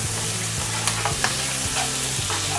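Chopped garlic and half a white onion fry in oil for a Chinese beef dish, a steady close sizzle with soft stirring taps over a low hum.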